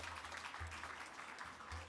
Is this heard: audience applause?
yes